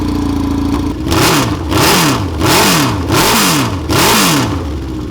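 A racing lawnmower engine runs straight-piped with no muffler and revs hard and raw. It surges in four or five repeated throttle blips over a steady idle, loud and close, with no talk.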